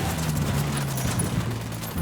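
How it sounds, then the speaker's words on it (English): Gunfire erupts in the Ghost Recon Wildlands video game, a fast, steady volley of shots rattling loudly for about two seconds with no pause. "I'm opening fire on these shitheads."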